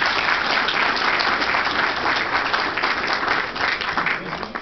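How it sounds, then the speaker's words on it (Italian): A large crowd applauds warmly for Pino Sardelli, mayoral candidate at a coalition campaign event in Minturno, with dense, steady clapping filling the hall from start to finish. "che noi salutiamo con grosso applauso"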